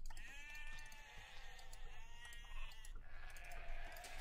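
Sheep bleating in Age of Empires, several wavering bleats in quick succession, loud and close, over a low game ambience with no speech.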